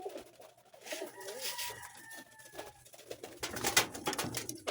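Pigeons coo softly nearby in a loft, low and throaty, mixed with faint rustling and a few higher bird chirps in an enclosed space.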